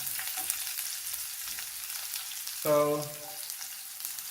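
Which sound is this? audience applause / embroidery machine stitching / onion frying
onion frying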